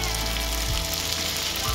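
Tomato paste hits spices frying in hot oil during preparation of a cauliflower and bean fish curry, and a loud, dense sizzle with a constant hiss fills the moment close up, with no voice.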